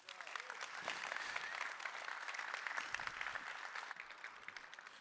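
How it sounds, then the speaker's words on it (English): Steady applause from an audience at a business roundtable session, heard at a modest distance and fairly quiet, with even clapping that holds throughout and eases slightly at the close. "Big round of applause for those folks right there."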